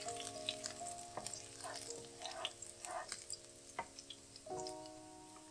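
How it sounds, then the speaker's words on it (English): Tofu fries in a pan with a steady close sizzle, broken by occasional stirring clinks and soft spatters, with no talking. "Fry up the tofu and then you add in the marinade."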